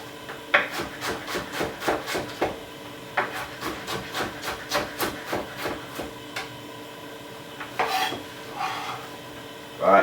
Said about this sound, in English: I'm making a roux. So I'm gonna simply use my wooden spoon and give it a little stir like this